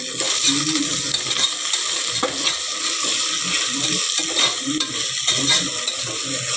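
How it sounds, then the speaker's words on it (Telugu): Mint and coriander leaves fry with ginger garlic paste in a pan for a rice dish, making a loud, continuous close-up sizzle broken by repeated scraping stirs of a utensil. "అల్లం వెల్లుల్లి పేస్ట్ వేగిన తర్వాత పుదీనా, కొత్తిమీర కూడా వేసి బాగా వేపుకోవాలన్నమాట"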